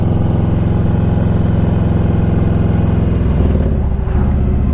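A 2000 Harley Davidson Electra Glide Classic motorcycle engine runs steadily and close by, a loud continuous V-twin rumble with a slight shift in pitch near the end.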